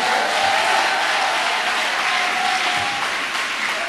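A church congregation applauds to acclaim the Lord, a dense, steady wash of clapping from many hands filling the room evenly throughout.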